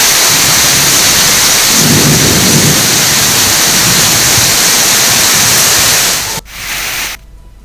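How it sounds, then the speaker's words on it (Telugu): Heavy rain with thunder and gusty winds across Telangana pours as a loud, dense roar with a deep rumble swelling early on, then cuts off abruptly near the end before a short burst returns. "అనేక చోట్ల ఈదురుగాలులతో కూడిన వర్షం కురిసింది"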